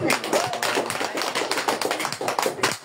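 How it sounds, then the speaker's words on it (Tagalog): A church congregation at a ministry service claps in praise, a fairly close burst of many hands clapping irregularly for about three seconds, with no voices over it. "Isang palakpak sa Panginoon."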